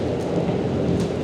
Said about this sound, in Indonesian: serius hujan lagi.